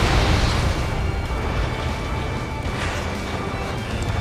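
Continuous explosions rumble and crackle from an Ace Combat 7 air-combat game, a dense, loud wash of blasts with no pauses, heard alone without voices.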